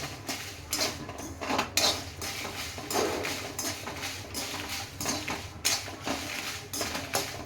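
Dried red chillies are tipped into a metal pan while making puntikura (gongura) pachadi, giving close, irregular clatters and scrapes of a utensil against the pan that come in uneven bursts.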